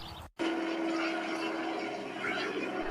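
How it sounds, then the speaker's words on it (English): A helicopter roars loudly and steadily overhead, a continuous engine drone with a faint rhythmic thrum that holds for nearly three seconds. "There is a helicopter coming towards us. It is flying very low."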